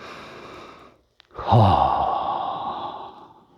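A single forceful exhale during a heart and lung breathing exercise: after a short pause, a strong, close breathy rush of air starts sharply and slowly trails off over about two seconds.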